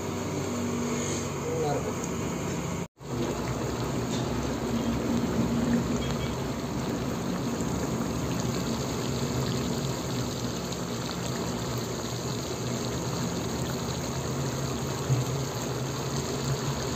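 Prawn thokku simmering in a pan, a steady broadband sizzling and bubbling hiss that runs continuously and loudly throughout, with a brief dropout early on.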